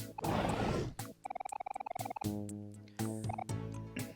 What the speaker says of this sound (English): That seems to be a living frog who's just on display here.